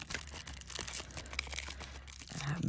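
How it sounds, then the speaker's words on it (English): Thin copper metal tape being crumpled by hand, giving a close, dense run of crinkling and tearing-like crackles that continues steadily for a few seconds with no talking. "We are going to crumple this tape, the copper tape, so that it's easier to use."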